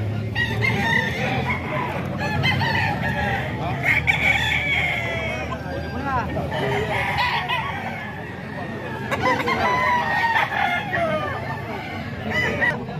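Banded roosters at a gamefowl gathering in San Jose del Monte, Bulacan, crowing repeatedly over constant clucking, with overlapping calls from several birds nearby and people talking in the background throughout.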